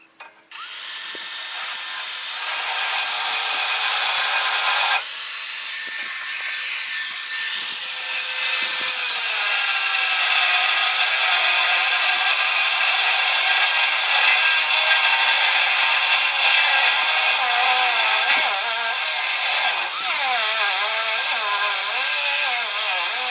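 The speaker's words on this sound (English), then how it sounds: "so now we're going to grind." A power grinder works metal on a hay wagon being overhauled, running loud and close as a sustained whine with shifting pitch for over twenty seconds, with one short break near the start, and no talking.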